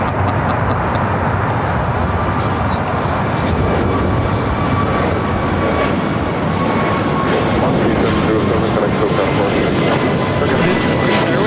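A Breeze Airways Airbus A220-300 jet taking off at LAX, a loud, constant engine roar filling the whole stretch, with a voice speaking over it.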